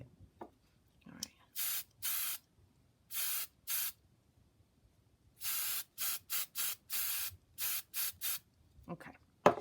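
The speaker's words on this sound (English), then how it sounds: "Give this guy a little spritz." Hairspray sprayed onto craft fibers in a series of short aerosol spritzes: a few bursts early, then a quick run of about six more, close and loud with quiet gaps between.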